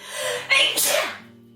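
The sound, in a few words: sneeze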